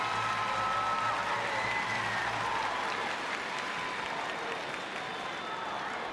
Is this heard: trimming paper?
no